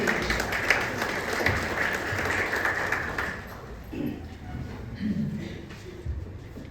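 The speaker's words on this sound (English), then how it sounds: "Let's show our appreciation with a big round of applause for her presence on the stage." Audience applause at an auditorium inauguration event, a broad steady patter of clapping for about three seconds that then fades out into quieter room noise and faint voices.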